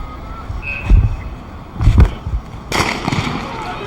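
A starter's pistol fires to begin a women's 200m race at the 1999 NCAA track and field nationals, a sharp crack among several thuds and crowd noise in a large outdoor stadium, heard at a distance.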